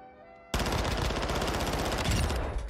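Rapid automatic gunfire from a weapon fired from the hip in the video game Modern Warfare 2, a sudden dense burst that starts after a short quiet lead-in and keeps hammering loudly to the end.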